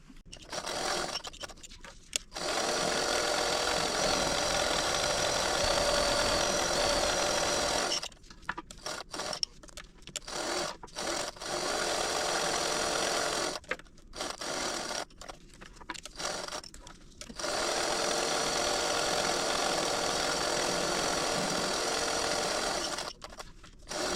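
A sewing machine stitches fabric for a tablet wristlet, with long continuous runs of steady mechanical whirring broken by short pauses and a few brief stops.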